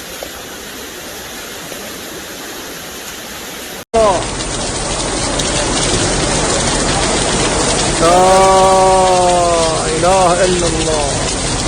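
Heavy rain pours steadily at the Kaaba in Masjid al-Haram, a dense loud wash of falling water that continues while a man chants nearby.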